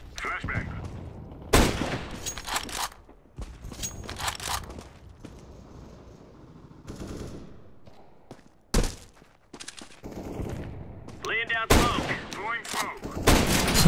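Rapid bursts of gunfire in a competitive CS:GO match, loud close rifle volleys separated by quieter stretches of footsteps and game noise, with occasional voice chatter.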